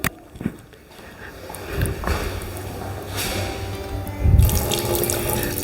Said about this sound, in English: In the boys washroom you have the running water